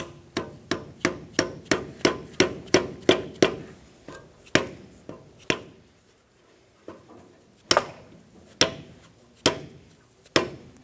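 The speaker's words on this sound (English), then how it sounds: "Using a saw face hammer, we're going to tap the outer seal onto the knuckle." A dead-blow hammer taps an outer wheel seal onto the steering knuckle of a 2000-2006 Toyota Tundra, sharp metallic knocks in a quick run of about ten, then slower scattered strikes with pauses.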